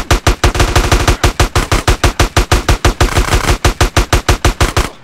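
Rapid bursts of automatic gunfire in GTA San Andreas, loud and close, dozens of evenly spaced shots in a steady rattling rhythm with brief pauses between bursts.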